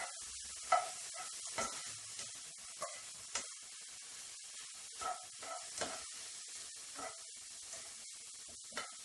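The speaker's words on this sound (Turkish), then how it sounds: "Etimizi kızdırdığımız tenceremizin içerisine alalım hızlı bir şekilde çevirerek mühürleyelim." Meat sears in a hot pot, stirred quickly for an Ankara-style eggplant dish. A steady sizzling hiss runs throughout, broken by scattered scraping and knocking from the stirring, fairly close.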